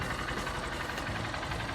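A 2025 Honda XR150L motorcycle engine idles after starting, a close, steady, rapid low thrum with a faint mechanical knock and no talk over it.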